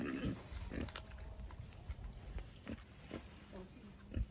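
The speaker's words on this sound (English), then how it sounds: "So we've got our 2 meat pigs that they'll be processed in December." Two meat pigs on a farm grunt and snuffle close by in short, irregular bursts, with rustling and shuffling movement around them.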